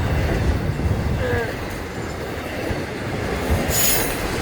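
Florida East Coast Railway train rolling past with steady rumbling, wheel noise and a brief squeal, loud and close, with faint voices in the background.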